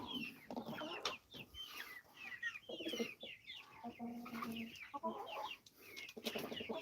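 Several Easter Egger chickens cluck and chatter continuously inside a coop, close and fairly loud, with overlapping calls throughout and no talk.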